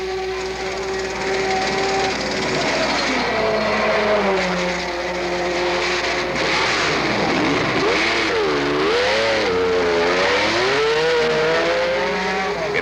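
Mario Andretti's Ferrari race car screams and revs hard while chasing Porsches at the 1970 Sebring Twelve Hours, the engine pitch sweeping up and down with someone talking over it.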